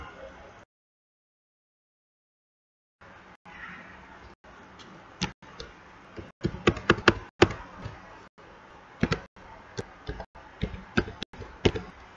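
Keys tapped on a computer keyboard while entering a search: after a stretch of near silence come clusters of quick, crisp clicks, close and fairly loud, coming in uneven bursts.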